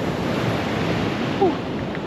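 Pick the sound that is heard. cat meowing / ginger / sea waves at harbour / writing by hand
sea waves at harbour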